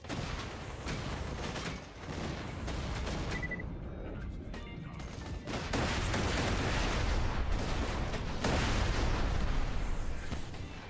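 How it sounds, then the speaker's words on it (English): A missile barrage in the video game Borderlands 2: a dense, continuous roar of blasts and impacts that grows louder and heavier over about ten seconds, with no voices. "Preparing missile barrage."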